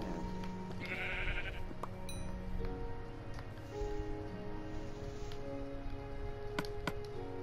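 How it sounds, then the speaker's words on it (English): Sheep bleating inside the Minecraft video game, a short bleat standing out against a busy game background with digging and ambient sounds, no speech. "It's a sheep."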